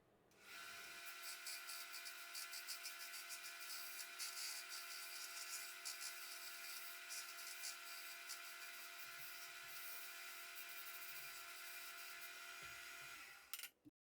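A $5 machete blade gets a new bevel ground on a power tool: a steady, high-pitched whining grind that holds for about thirteen seconds at low level, then spins down and stops.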